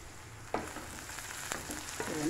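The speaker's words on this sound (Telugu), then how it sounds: "కొద్దిగా ఫ్రై అయింది" Cashews frying in a pan for a tomato and drumstick curry, producing a soft continuous sizzle close by, with a few sharp spoon knocks against the pan as they are stirred.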